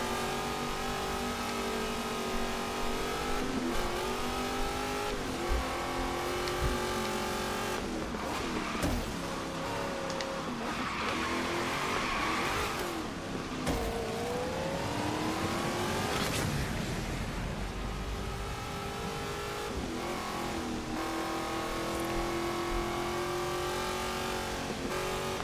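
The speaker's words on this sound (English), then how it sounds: "Okay, bad idea doing drifts right now." A race car drifting in Forza Horizon 3 on a Hot Wheels track, engine revving hard and rising and falling through gear changes, with tire squeal during slides, loud and continuous without talk.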